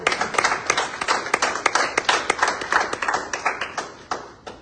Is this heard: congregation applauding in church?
yes